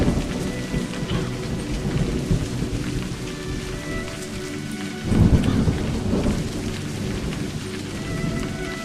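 Video game rain hisses densely and steadily, and a deep roll of thunder rumbles up midway before easing back under the continuing downpour, with no talk.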